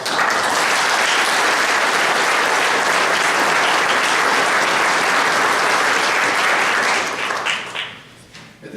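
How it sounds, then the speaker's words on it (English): Sustained applause from a large crowd at a chamber of commerce awards presentation, dense steady clapping that fades out toward the end. "So a round of applause."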